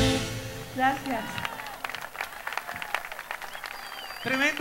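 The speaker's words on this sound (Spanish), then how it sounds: "Tremendo aplauso" Audience applause at a singing festival semifinal breaks out after a performance, moderately loud and scattered, with a voice and music heard at the start and end.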